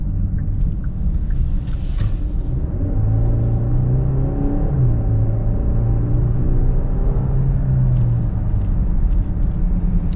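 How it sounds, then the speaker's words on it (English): A 2021 Genesis GV80 Prestige luxury SUV accelerating on a night drive, heard from inside as a steady, loud engine drone whose pitch climbs and shifts over a continuous road rumble. "it does get up to speed pretty fast, especially for an SUV of this size"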